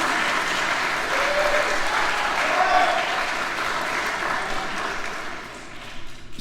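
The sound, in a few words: audience applause at an orchestra concert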